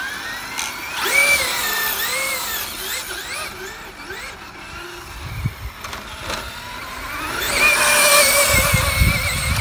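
A Traxxas Slash 2wd RC drag car with a 1969 Chevy Nova SS body on 3S power runs in bursts, its electric motor whining up and down in pitch, fading midway and then surging loudly near the end.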